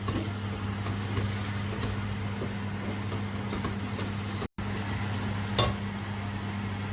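Chicken keema with turmeric powder cooking over medium heat in a pan, giving a steady low sizzle with occasional scraping stirs, broken by one brief dropout.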